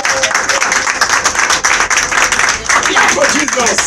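Church congregation clapping during a worship service, steady broadband applause running continuously throughout, fairly loud, with voices mixed in underneath.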